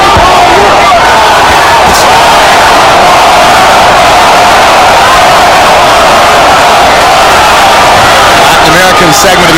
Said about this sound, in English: Latin American segment of the crowd chanting Goyo, Goyo, Goyo.